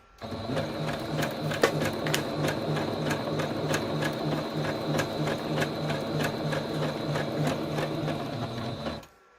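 A sewing machine runs a zigzag stitch through a fabric collage strip, a steady close mechanical whir with rhythmic needle clicks lasting several seconds before stopping abruptly, no voices.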